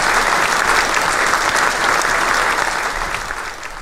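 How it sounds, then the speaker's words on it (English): A studio audience in a television talk show set claps loudly and steadily, a dense close applause that fades slightly toward the end. "Let's cheer and clap for them."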